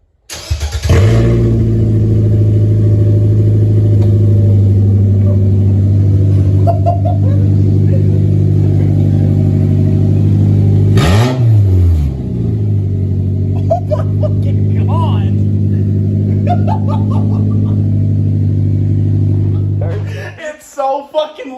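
A straight-piped Nissan Versa, sitting on stands, fires up and idles with a loud, steady droning exhaust, blipped once into a short rev midway before settling back; the engine runs close and dominant throughout, with faint voices underneath.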